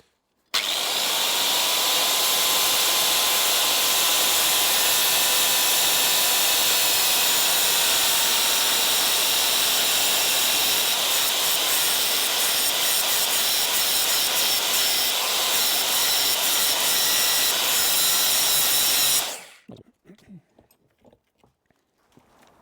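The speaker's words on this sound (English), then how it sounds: "So you actually have to pull the top off and just grind that down a bit," A power grinder runs continuously and loudly for about twenty seconds, grinding down the top of a rubber engine block bracket during a Chevy LS3 crate engine install in a Gardner Douglas 427 kit car build, then stops abruptly.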